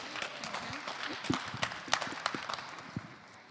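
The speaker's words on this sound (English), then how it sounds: "So a big round of applause to Agla." Audience at a social enterprise pitch showcase applauding a presenter, scattered, fairly faint clapping that thins out toward the end, with a voice briefly mixed in.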